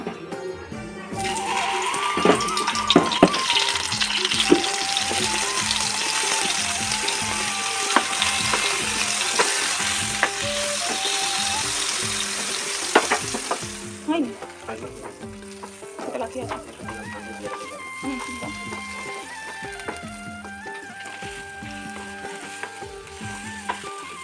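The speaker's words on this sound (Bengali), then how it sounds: "কড়াই আবার তেল দিয়ে দিলাম এবারে পটলগুলো ভেজে নেব" Pointed gourd (potol) fries in hot oil in a wok with a loud, dense sizzle for about half the time, then a quieter crackle broken by the clinks and scrapes of stirring.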